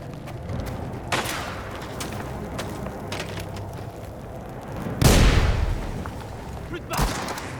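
Grenade blast and gunfire in Mafia: The Old Country: scattered sharp shots crack through the first seconds, then a loud, deep boom hits and rolls off, followed by another close burst, with voices over the din.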